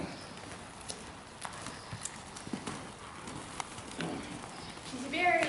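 A ridden horse's hooves clip-clop in a steady rhythm on ground at moderate distance, with birds cooing nearby and people talking in the background.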